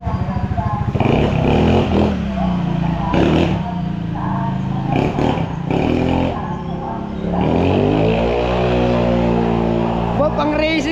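Racing motorcycle engine revved in bursts, loud rising and falling blips with a final climbing rev, close by, while people talk around it.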